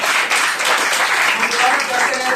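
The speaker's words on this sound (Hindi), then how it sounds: "जोरदार ताली बजानी पड़ेगी।" An audience at a venue program in Shankargarh applauds to welcome a speaker onto the stage, giving a steady, dense wash of clapping that runs through the whole moment with voices mixed in.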